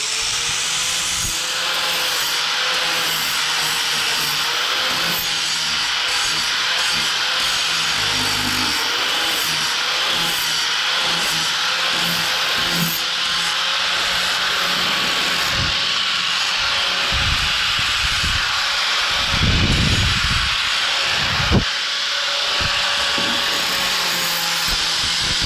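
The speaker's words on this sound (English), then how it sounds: "Got a grinder." A grinder runs steadily and loud close by, shaping a custom inverted intake for a Predator 212 small engine indoors, its continuous whine broken by grinding and rubbing bursts against the workpiece.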